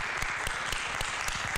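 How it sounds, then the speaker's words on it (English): Audience clapping at a comedy improv show, a steady, even patter of many hands with a few sharper individual claps standing out, continuous throughout. "Like you were clapping just now"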